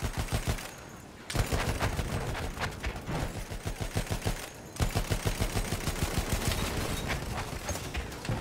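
Rapid machine gun strafing fire from a gunship in the video game Battlefield 1, loud continuous bursts with a short pause near the start and another break midway before firing resumes.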